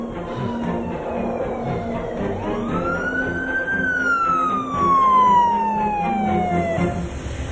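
A wailing ambulance siren sweeps up and then slowly down in pitch, loud and close over a steady rumble of traffic.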